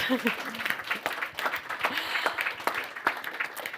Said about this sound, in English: And with that said, yeah, applause